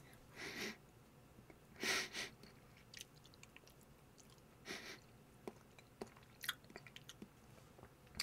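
Garlic cheese pizza being chewed close to the mic, with several distinct bursts of wet, crunchy bites and mastication spread over a quiet background.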